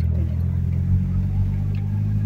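A car passes on a small rural road near a lot for sale, a steady low engine rumble and tyre hum that stays loud and close throughout, with no voices.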